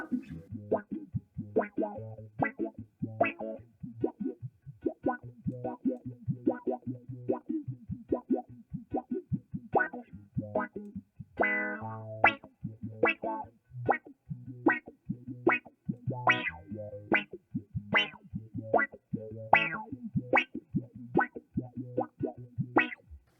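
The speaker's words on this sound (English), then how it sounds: "a really wet sound. Yeah, just sounds like you're underwater." A Mojo Hand FX Little Wonder pedal gives a wet, warbling underwater tone to a string of plucked notes. Each note swells and wobbles in a steady, repeating rhythm, loud and close, with no talking.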